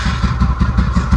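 A TVS Ntorq 125cc scooter engine runs with a steady, pulsing low throb and mechanical clatter, close and loud, with no talk.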